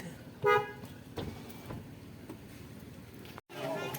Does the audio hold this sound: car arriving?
yes